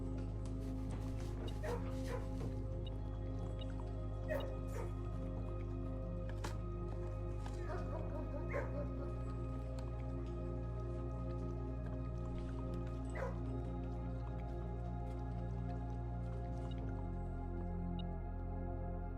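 Dogs in a kennel in the video game Blue Prince, with small barks, yips and whimpers over a steady hum of game music, fairly quiet and scattered throughout.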